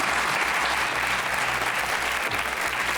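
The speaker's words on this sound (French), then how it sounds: "vous pouvez applaudir" Studio audience applause greets a notary joining a French television show, dense and steady for the full three seconds with a low rhythmic hum underneath.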